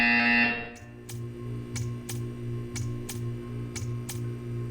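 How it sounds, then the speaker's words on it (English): A sustained tone cuts off, then a low electronic buzzer from Portal 2 drones while sharp ticking pulses repeat in a steady rhythm. "You will hear a buzzer."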